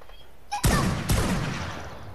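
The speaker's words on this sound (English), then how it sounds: "y'all heard those gunshots? That was me shooting someone." Two sharp gunshots from the video game ARK ring out about half a second apart, each followed by a noisy decaying tail, with no talking.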